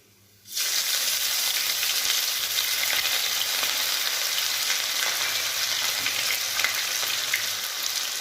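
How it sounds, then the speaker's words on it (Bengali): Chopped ginger dropped into hot oil with cinnamon, cardamom, cloves and whole cumin for Bengali cholar dal, bursting into a loud, dense, steady sizzle after a moment of quiet, with faint stirring and no talk. "একটু নেড়ে দেবো"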